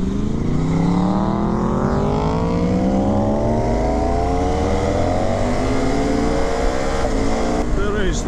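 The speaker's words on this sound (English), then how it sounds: "If you give another little twist at the wrist, there's just another woof, woof, woof, woof of power that comes in." KTM 1290 Super Adventure S motorcycle (2019) accelerating hard, its engine note rising steadily in pitch as revs climb, loud and close with continuous wind rush throughout.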